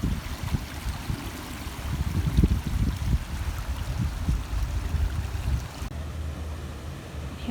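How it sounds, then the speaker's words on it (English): Floodwater runs in a stream at the Stony Brook Wildlife Sanctuary, a loud, close, continuous rushing and gurgling with low turbulent churning and no voices. "I just want to show you there's another stream over here,"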